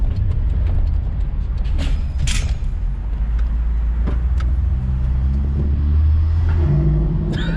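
A turbocharged Suzuki Vitara engine runs on boost, a heavy low rumble that swells as it revs, with scattered mechanical clicks and creaks over the top.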